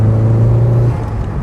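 A Nissan 180sx on its first drive, a loud close engine hum with a steady low drone that drops in pitch partway through as if shifting or easing off.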